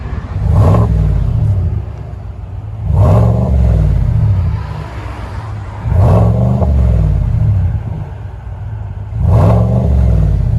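GMC Sierra Denali pickup with a 6.2L V8 and aftermarket exhaust, revved four times in a steady rhythm, each deep throaty surge rising and falling back to a loud rumbling idle, close and alone.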